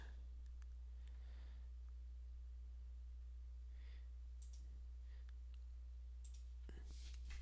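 Sparse, soft mouse clicks on a computer while publishing a website, a few quick close taps spread irregularly over a steady low electrical hum, with no talking.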